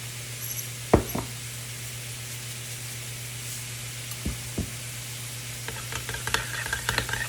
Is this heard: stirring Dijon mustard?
yes